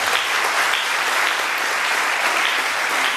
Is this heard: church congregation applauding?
yes